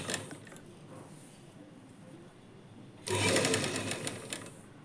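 A sewing machine stitches the sleeve of a lined blouse at the shoulder, running as a low steady hum that jumps to a louder, busier whir of stitching about two-thirds of the way through.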